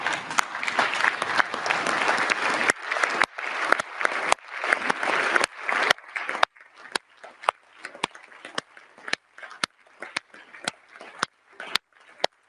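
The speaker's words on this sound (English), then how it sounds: "please stand and applaud for our Ukrainian colleagues" Delegates at an emergency council meeting stand and applaud Ukrainian colleagues. The clapping is dense and full for about six seconds, then thins into scattered, separate claps that trail off.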